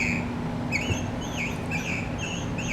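A singing bird Christmas tree ornament gives rapid, high, warbling electronic chirps in repeated short trills, fairly faint over a steady background hiss and hum.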